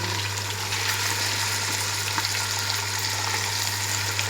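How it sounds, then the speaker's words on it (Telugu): Fish frying in hot oil with ginger-garlic paste, a steady dense sizzle and crackle running throughout at even loudness, no voices. "ఇప్పుడు చేపలు వేసుకోవాలి నూనెలా."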